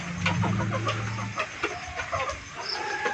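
Black Australorp and Decal Brown chickens cluck at close range in a flock being fed leftover rice and scraps, with a sustained low clucking call early on followed by scattered short clucks and pecking-like ticks.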